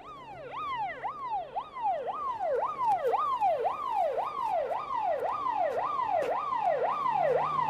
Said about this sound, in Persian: این دیگه چیه؟ آمبولانس دیگه.